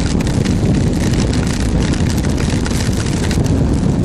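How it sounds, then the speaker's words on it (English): Strong wind roars into the microphone during a motorcycle ride in the rain, a loud, constant buffeting rush with a faint engine drone beneath and no talk. "the wind is pushing me to the right"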